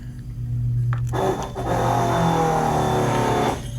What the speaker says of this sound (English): You can hear those carburetors.